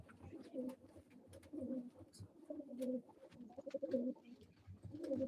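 Pigeons at a live auction give low, throaty coos in short repeating bursts, close and fairly soft, with faint flutters and clicks between calls.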